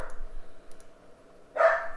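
Dogs in a Minecraft modpack game (FTB Unstable) bark in a short burst near the end, following a quieter stretch of faint game ambience.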